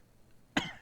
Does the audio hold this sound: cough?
yes